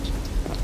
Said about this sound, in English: And it is raining, just like in real life.